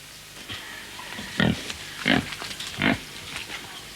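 A pig on a Martinique farm grunts in three loud, close bursts spaced about a second apart, with softer snuffling and a few quieter grunts between them.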